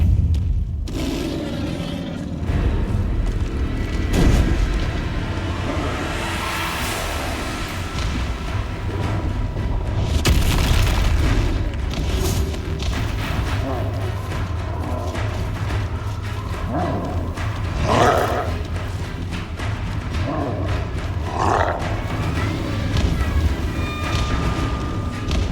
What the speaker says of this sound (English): Just my luck, a troll.